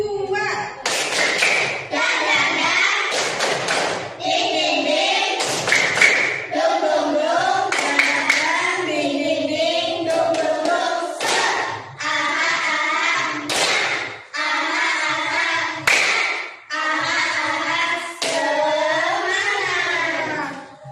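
Children perform a second version of the tepuk semangat clapping chant, voices chanting in sung unison phrases while bursts of rhythmic claps and thumps mark the beat between lines.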